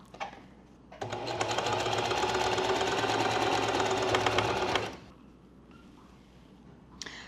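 A sewing machine stitches an elastic waistband onto linen pants in one steady, loud run of about four seconds, with quiet room sound before and after.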